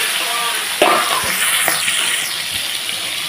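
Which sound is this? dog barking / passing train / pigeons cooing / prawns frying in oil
prawns frying in oil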